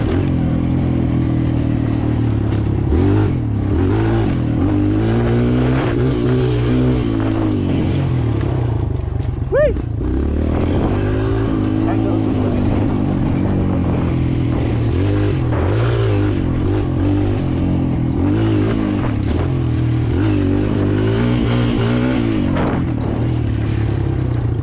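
A Kawasaki KLX 140L dirt bike engine drones loudly and continuously while riding, its revs rising and falling through gear changes, with wind buffeting over the ride.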